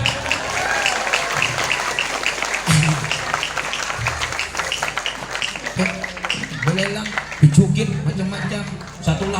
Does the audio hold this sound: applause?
yes